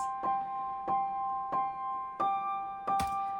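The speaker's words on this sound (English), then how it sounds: "This is just me playing a real piano." Piano notes struck one at a time at a steady, unhurried pace, each ringing clearly and decaying, sounding dry and close.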